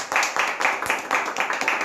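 A few people clap close to the microphone for guests on a podcast, quick separate claps in a fairly regular rhythm over a short stretch, with voices mixed in.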